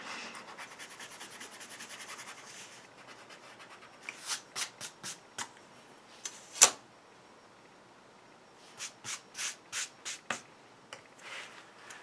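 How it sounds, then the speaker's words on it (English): An eraser scrubs pencil lines off paper in quick rhythmic bursts, soft close scratchy strokes coming in two clusters with quiet gaps between. "I do erase those remaining lines"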